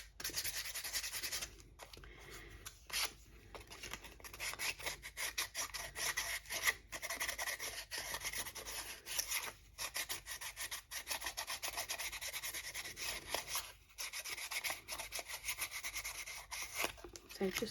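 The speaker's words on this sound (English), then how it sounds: "obviously do all the sanding together" Sanding the edges of small handmade craft decorations, a steady scratchy rubbing and rasping of abrasive on wood in quick back-and-forth strokes with brief pauses, close and fairly quiet throughout.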